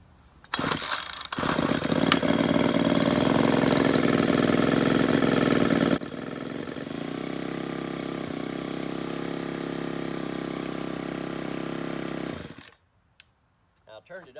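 A Ryobi Expand-It pole saw's small gas engine catches after a pull and roars at high revs, then drops to a steadier running drone before being shut off, loud and close.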